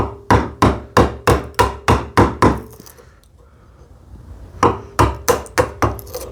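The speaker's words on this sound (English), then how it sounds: "it makes sense to use a narrower chisel to take out the center first, like this" A narrow chisel struck with a mallet to clear the center of a wooden joint for a TV unit: a quick run of about eight sharp evenly spaced knocks, a short pause, then five more.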